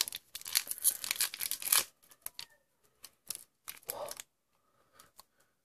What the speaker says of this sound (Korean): 그럼 이거 한번 뜯어볼게요.